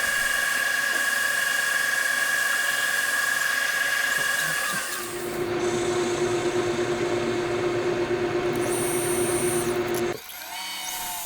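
Valve seat cutters being machined for a Honda Monkey motorcycle engine converted to four cylinders: a loud, steady high-pitched whine of a power tool running continuously, its pitch dropping partway through and cutting briefly near the end.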